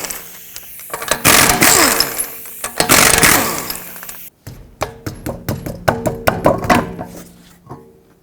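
A power tool with a 21mm socket spins the lug nuts off the rear wheel of a 2009-2015 Toyota Prius: a loud, sustained buzzing whir, then a run of sharp rapid ratcheting clicks and knocks close up.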